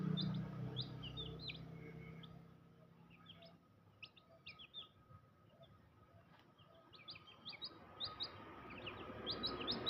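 Aseel shamo chicks and native chicks peep and chirp in a steady overlapping chorus throughout, close by, with a few louder clucking notes mixed in.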